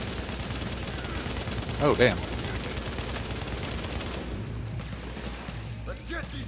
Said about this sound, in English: they're starting to take shots at me